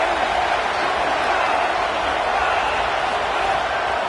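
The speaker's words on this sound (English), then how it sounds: "Decibels rising as the crowd gets behind this defense on 3rd down" A stadium crowd roars on third down during an NCAA college football game against LSU. The broad, steady wall of noise holds loud for several seconds, with no single voice standing out.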